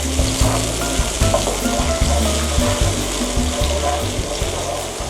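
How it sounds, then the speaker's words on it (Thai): Curry paste and coconut milk stir-fry in a hot pan, a loud steady sizzle with repeated scraping stirs of the spatula throughout. "เราจะใส่กะทิลงไปค่ะ ผัดให้กะทิแตกมันนะคะ"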